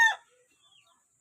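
A rooster and hens from a breeding group of four hens and one cock give a short, loud cluck at the start, followed by faint, scattered calls from farther off.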